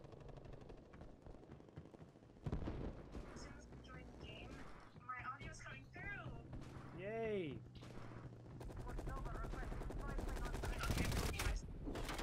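Automatic M16 rifle fire in Black Ops Cold War, rapid bursts crackling through busy game noise, with players talking over the shooting throughout.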